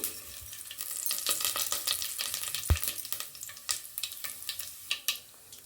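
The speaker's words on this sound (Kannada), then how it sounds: "ಇವಾಗ ನಾನು ಇದಕ್ಕೆ ಸ್ವಲ್ಪ ಜೀರಿಗೆ, ಸ್ವಲ್ಪ ಸಾಸಿವೆಯನ್ನು ಹಾಕ್ಕೊಳ್ತೀನಿ." Cumin and mustard seeds hit hot oil in a pan, crackling and spitting in an irregular stream of sharp pops over a sizzling hiss, close and fairly loud, with no speech.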